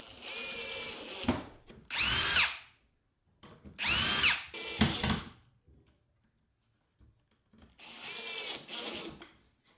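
Power drill driving half-inch wood screws through hinges into plywood for a folding stool, several short whining bursts with rising pitch as each screw seats, separated by quiet pauses.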